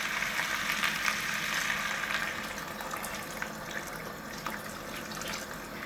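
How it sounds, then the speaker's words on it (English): Boiled water pouring into a pot of rice for vegetable pulao, a continuous splashing, gurgling stream that runs steadily close by without talk. "To add boiled water."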